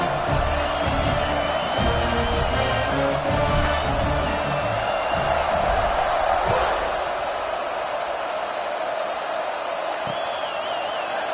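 A large football stadium crowd roars steadily through a kickoff between Florida and Stanford, a broad continuous swell of cheering that eases slightly toward the end, with a commentator talking over the first half.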